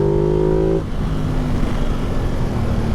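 A Ducati Multistrada motorcycle engine hums steadily while riding, a droning tone that shifts pitch downward partway through as revs drop, mixed with heavy wind rush throughout.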